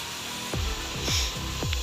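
An electric drill runs from a 1 kVA H-bridge solar inverter kit supplying 220 V at 50 Hz, giving three short revving bursts, each with a falling motor tone, over a loud steady hiss.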